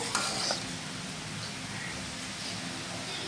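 Grated coconut being mixed into sweet zarda rice in a cooking pot gives a soft, steady rustling and scraping that stays fairly quiet and even throughout.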